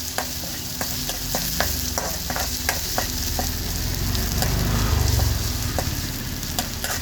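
Garlic, ginger and green chilli paste fries and is stirred in a pan inside a lorry cab, a steady sizzle with repeated scraping strokes of the spoon, close and fairly loud, with no talk.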